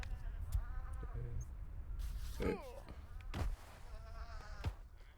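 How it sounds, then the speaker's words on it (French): A few faint sheep bleats in the video game Baby Steps, with a wavering, nasal quality, spaced apart over a low background hum. "Oh no! Y'a des moutons! Salam les moutons!"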